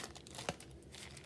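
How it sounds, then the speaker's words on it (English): Plastic bag crinkling softly up close, a few faint rustles with one sharper crackle, no voices. "I'm gonna put this in another plastic bag just so it doesn't break"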